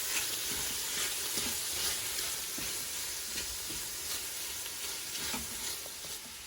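Garlic sizzles steadily in an Instant Pot while being stirred, a dense, even frying hiss with light scraping throughout and no talking.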